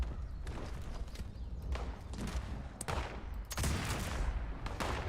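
Antique rifle fire in a video game comes as several loud cracking blasts spread across a few seconds over a rough, noisy background.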